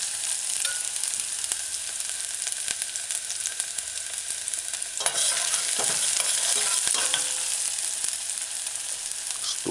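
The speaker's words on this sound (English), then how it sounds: "add your diced scallion. Stir fry. Allow sauteing." Diced scallion sautes in a pan over a medium-low stove, a steady bright sizzle punctuated by scraping and clinks as it is stirred, close and without talk.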